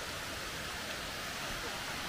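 Amicalola Falls in the Blue Ridge Mountains pours steadily over rocks, a dense, even hiss of falling water filling the whole moment without pause.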